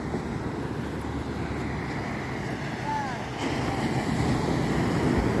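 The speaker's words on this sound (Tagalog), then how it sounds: "Kasi may alon." Steady broadband wash of ocean surf with wind buffeting the microphone, continuous and fairly loud, swelling slightly toward the end, on a shore where fishermen haul up a boat.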